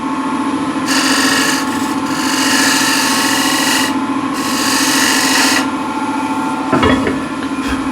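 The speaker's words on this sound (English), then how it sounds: "with the scraper I'll just reduce the size a little bit" A scraper cuts down a wooden tenon on a spinning lathe for a trinket box, making a few loud raspy scraping passes over a steady motor hum, with a brief knock near the end.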